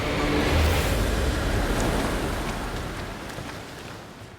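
Surf crashes and roars in a broad rushing wash that slowly fades, with no voices.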